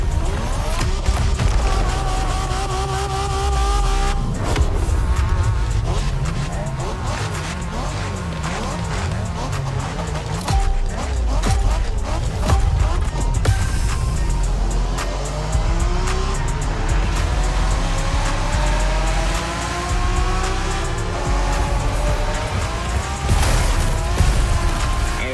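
Race car engines revving and tires squealing through a Japanese street race in The Crew Motorfest, loud and continuous with shifting engine pitch, skids and passing cars, with a few speech-like voices in the mix.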